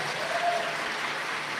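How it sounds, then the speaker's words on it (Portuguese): Church congregation applauding together, a dense, steady wash of clapping that fills the space at a constant level throughout. "Aplauda essa igreja sua."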